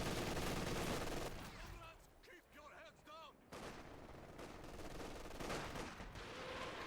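Machine gun bursts ring out in a World War II strategy game battle with tanks and rocket artillery, rapid crackling fire layered among other gunfire and explosions, with a voice commenting over the action.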